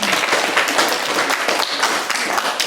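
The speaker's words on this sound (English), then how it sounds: "so please give yourself a clap" A school audience at a stage public speaking final claps together in a brief, loud, dense burst of applause.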